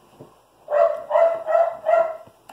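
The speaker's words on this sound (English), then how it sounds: "sorry for my dog barking if you can't hear." Four medium-pitched dog barks in quick succession, fairly close and evenly spaced, with near silence before and after.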